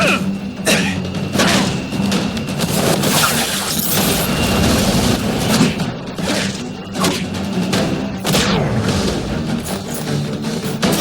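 Heavy booms and thuds from the seismic blast attack in The Amazing Spider-Man 2 on Xbox 360 hit again and again. They come as a loud, irregular series of impacts with crashing debris between them, and nobody speaks.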